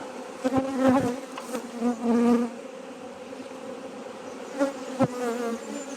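A swarm of native black honeybees humming and buzzing close by, a dense steady drone with individual bees flying past louder now and then, no talk.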